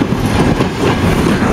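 Freight train wagons roll past close by, one of them carrying a forty-foot container, making a steady broadband rumble with faint clickety-clack from the wheels and no talk.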